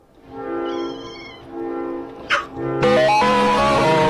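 Kitten gives a long drawn-out meow, then a short squeak, followed by a loud harsh distorted yowl, all close and prominent with no talking.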